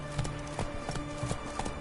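Roach, the horse in The Witcher 3, trots with steady clip-clopping hooves, a regular rhythm of soft thuds under a continuous game background hum.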